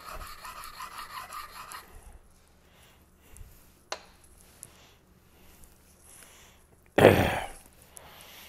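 An R2/SG2 steel knife is drawn across a whetstone in a quick run of rasping, scraping strokes, then a long quiet stretch with a few faint scrapes and one sharp, louder grinding burst near the end.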